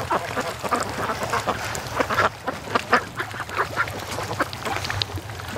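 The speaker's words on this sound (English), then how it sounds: "Well, one of the Dalmatian ducks." Dalmatian ducks on a lake, heard from a canoe, give a steady run of repeated quacks, several birds calling close by and overlapping without pause.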